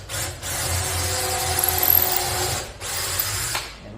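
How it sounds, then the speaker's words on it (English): A power drill boring a few holes into the frame of a homemade passive solar heater, a steady close whirring drone with slight pitch changes and a brief pause near the end before it runs again. "So I'm going to drill a few holes in here"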